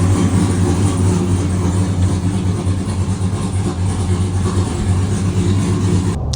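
A car engine fitted with headers and an aggressive cam runs with a loud, deep, steady rumble, idling with a slightly lumpy throb throughout and no voices.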